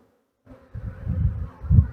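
Honey bees buzzing as a frame from a hive being split into a new colony is shaken hard, a dense close swarm hum swelling after a brief silence and pulsing louder near the end.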